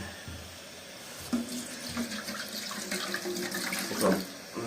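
Water runs steadily from a tap, splashing into a container nearby, with a few soft clinks and no talking, while preparing a mite treatment for beehives.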